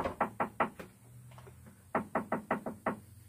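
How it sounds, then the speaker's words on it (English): Knuckles rap on a door in two bursts: four quick knocks, a short pause with faint muffled sounds, then another brisk run of about six knocks, close and fairly loud, with no talking. "My mom's knocking."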